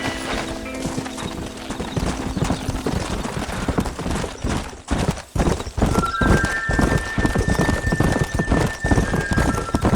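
Horse hooves clip-clop steadily while riding in Red Dead Redemption, a brisk rhythmic gallop close by with a neigh early on and soft rain-like patter underneath.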